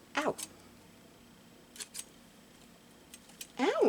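Scissors snipping paper during junk journaling, a few short crisp cuts spaced across a quiet room, with a brief sharper snip at the start and end.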